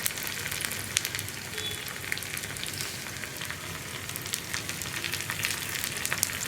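Dried red chillies and curry leaves fry in hot oil for a tempering, giving a steady close sizzle with scattered crackles and pops, alone without talk.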